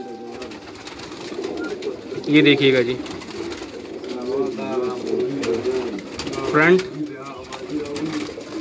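Pigeons cooing on a Karachi rooftop, several rolling coos rising over someone talking nearby, with two louder bursts of cooing standing out close to the listener.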